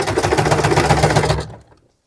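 Sewing machine stitching a seam on a blouse with ruffles, a fast even mechanical patter close by that runs about one and a half seconds and then stops.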